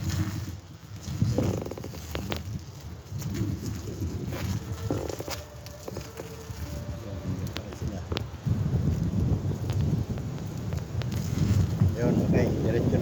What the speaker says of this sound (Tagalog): mahangin at malamig-lamig ngayon